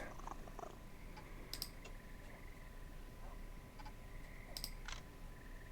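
A soft, steady video game cat purr rumbles continuously with faint clicks and small electronic chimes scattered over it, no talking.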